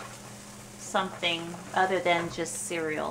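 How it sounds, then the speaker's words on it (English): Potatoes fry in a pan for breakfast burritos, a steady low sizzle running beneath a person talking close by throughout. "So right now I'm just frying up my potatoes to go into the breakfast burritos"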